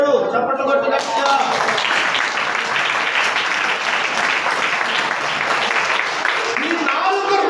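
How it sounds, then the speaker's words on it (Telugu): Sustained applause from a church congregation during a Sunday service, dense steady clapping that swells in and carries for several seconds, with voices faintly mixed in at the edges. "చప్పట్లు కొట్టగట్టా."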